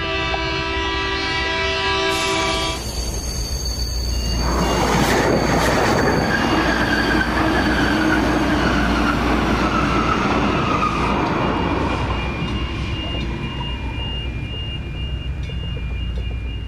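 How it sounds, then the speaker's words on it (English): A 400-tonne passenger train brakes hard in an emergency stop from 100 km/h approaching a level crossing, with a horn blast, then a long loud metallic wheel squeal and rumble that gradually eases. "The driver of this train will now demonstrate an emergency stop while approaching Park Street Level Crossing at the track speed of 100 kilometres an hour."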